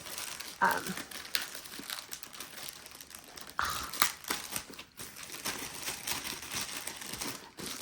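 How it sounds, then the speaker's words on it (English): Close plastic crinkling and rustling, steady handling with a few sharper crackles, as a plastic bag is squeezed and shifted. "So here we go into our dust bag. It's not really, it's just a plastic bag."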